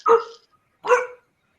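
A dog barks twice, two short sharp woofs about a second apart, close and clear against silence.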